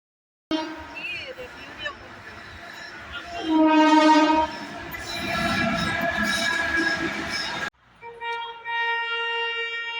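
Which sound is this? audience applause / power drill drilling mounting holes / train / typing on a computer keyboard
train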